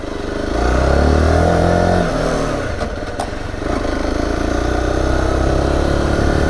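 A Zontes T2 310 motorcycle engine drones steadily and close while the bike is ridden over bumpy ground. The pitch shifts slightly as the rider changes speed, and no one speaks.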